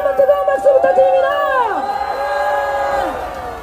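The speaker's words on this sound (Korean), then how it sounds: "다시 한번 뜨거운 박수 부탁드립니다." A crowd at a candlelight political rally near Seoul's City Hall station cheers loudly, with overlapping rising and falling shouts and whoops filling the space.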